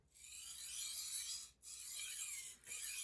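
A knife edge scrapes along a sharpening stone in three long, steady, close strokes with brief gaps between them, a quiet gritty hiss.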